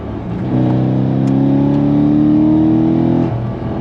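A modified C6 Corvette Z06 engine revs up strongly as it accelerates in second gear, its pitch rising steadily for about three seconds before the throttle drops off.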